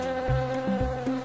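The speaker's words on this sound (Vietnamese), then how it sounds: "đây là một chú ong nè" A cartoonish bee buzzing sound effect hums with a steady droning tone, pulsing in a few regular beats over a short stretch with no voices.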